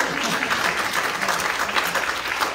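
A crowd at a neighborhood association district candidate forum applauds the candidates, a continuous wash of many hands clapping at an even, fairly loud level for the whole stretch.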